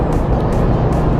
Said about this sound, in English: you really don't realize how menacing Adam's car looks until it's behind you